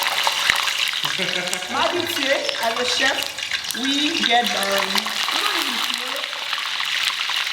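Plantain frying in hot oil with a little water added, in Haitian home cooking: a steady crackling sizzle runs throughout, with people talking over it.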